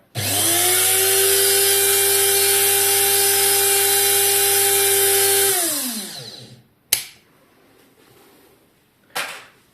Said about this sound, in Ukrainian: Звук роботи кавомолки